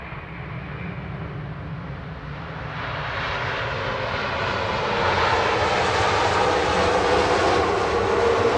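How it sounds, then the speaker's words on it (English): A Norse Boeing 787-9 Dreamliner from Mumbai lands at Manchester Airport, its broad engine roar swelling steadily louder and closer, a sustained rushing drone with no talk. "Indigo Flight 31, operated by Norse from Mumbai"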